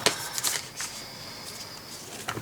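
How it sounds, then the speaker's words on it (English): Moonology Oracle cards being shuffled by hand, a few soft papery riffles and slides with short pauses between them, close and fairly quiet with no talking. "let's get started by shuffling these Moonology Oracle cards."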